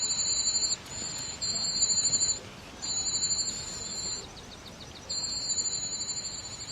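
A European cuckoo chick begging with a call that mimics a whole brood of warbler chicks: rapid, high, shrill bursts of chattering squeaks in four repeated bouts separated by brief pauses, clear and alone.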